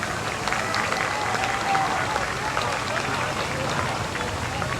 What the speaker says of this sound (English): Let's have a big round of applause for all of those that have been here since our opening year.